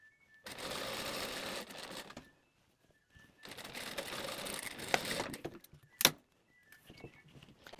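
A sewing machine sews the armhole seam of a mermaid-style dress with vertical panels, running in two close, steady bursts separated by a pause, followed by a sharp click and light handling sounds.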